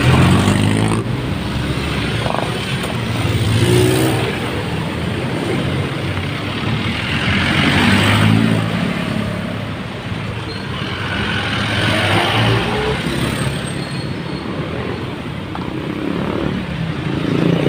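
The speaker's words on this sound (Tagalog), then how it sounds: "Na-traffic na." Road traffic in Batangas, with a continuous loud rumble of passing engines from cars, trucks and motorcycles that swells and eases as vehicles go by, steady throughout with no voices.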